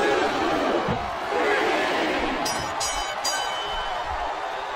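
A capacity wrestling arena crowd roars steadily as a dense, continuous wash of cheering and shouting, with a few dull thuds and sharp squeaks cutting through the noise.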